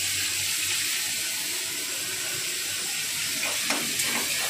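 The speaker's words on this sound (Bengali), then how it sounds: "তারপরে আমি দেবো পেঁয়াজ, যে আমি গ্রেট করে রেখেছিলাম এই পেঁয়াজটা দিয়ে দেবো।" Grated onion dropped into hot oil with a bay leaf, sizzling and hissing as a steady, loud fry with no talking.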